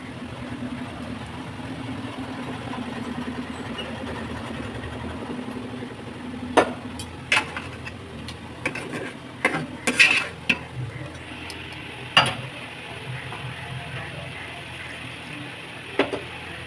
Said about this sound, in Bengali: এবার গরম জল দিচ্ছি।